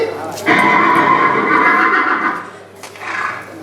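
A horse lets out a long, loud, close whinny that holds for about two seconds, then a shorter second neigh, in a dramatized Tamil story with background effects.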